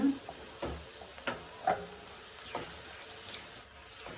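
Onions sautéing on a medium flame for fish gravy, a low continuous sizzle with several short spatula scrapes and taps, close and quiet.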